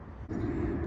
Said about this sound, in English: an aeroplane going overhead.